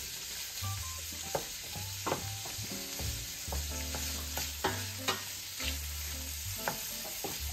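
Sausage and pancetta fry in a pan, a soft, steady sizzle with intermittent clicks and scrapes from stirring, fairly quiet and with no talking.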